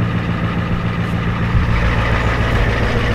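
A Ford F-250 with a 7.3 IDI diesel engine idles close by, a steady, rough low rumble with an even knocking pulse and no talk.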